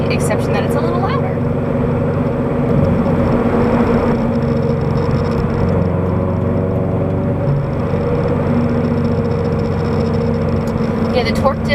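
A Subaru BRZ fitted with a SpeedFactory exhaust drones steadily from inside the cabin while driving, a constant low engine hum with a voice talking over it.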